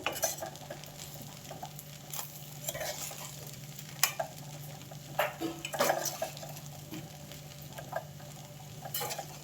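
A spoon stirs fenugreek leaf rice with added salt in a pan, giving soft scraping and clinking taps at an unhurried, irregular pace over a faint steady hum, with no voices.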